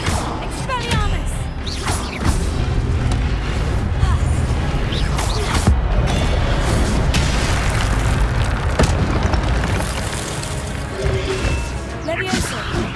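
Spellcasting in Hogwarts Legacy: a dense, loud run of magical booms, whooshes and crashing impacts during combat, with character voices calling out over the effects.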